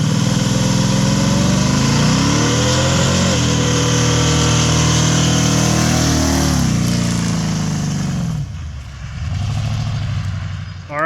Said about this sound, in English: That wasn't too bad of a burnout for what the Chevelle has.